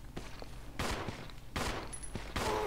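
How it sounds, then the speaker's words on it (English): Handgun gunshots in the video game Resident Evil 0: three loud, sharp shots spaced under a second apart, each with a short echoing tail, over steady in-game background noise. "I've just used all those bullets on them, so we may as well. And Rebecca has 3 bullets"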